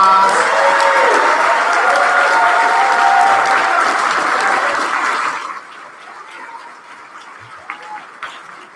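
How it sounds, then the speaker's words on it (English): Loud applause at a debate awards ceremony, a dense, sustained roar of clapping from the crowd with a few cheers that fades after about five seconds into scattered claps and quiet room murmur. "If we can give a round of applause."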